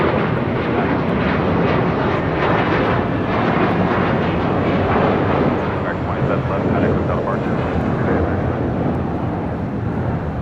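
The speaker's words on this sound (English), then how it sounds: "That was American Airlines Flight 2711 heading to Dallas, Fort Worth, Texas, and at A321." An American Airlines Airbus A321 takes off from LAX bound for Dallas–Fort Worth, giving a loud, steady, broadband jet roar that holds for the whole stretch with little change, and faint voices mixed in underneath.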